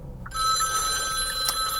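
A mobile phone rings inside a Hyundai Ioniq 5, a bright electronic ringtone starting suddenly and holding steady and close over a low cabin hum, with no one talking.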